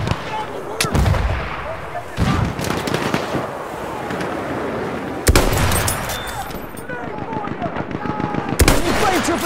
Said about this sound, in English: Spotted a machine gun!